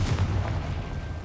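In Hogwarts Legacy, a Confringo blast spell fires off as one short, muffled boom with a low rumbling burst that fades quickly.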